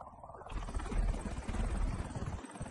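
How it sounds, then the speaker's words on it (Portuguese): A helicopter in GTA V Online flies close behind, its rotor giving a low, rapid pulsing thump with engine whine that swells after a quiet start and stays loud throughout. "Ih, tem helicóptero atrás, John."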